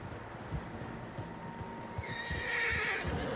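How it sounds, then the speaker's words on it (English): Horses whinny loudly in the Red Dead Redemption 2 video game, with soft hoof clip-clops and a steady outdoor ambience beneath, no talking. "Horses, quite a few of them."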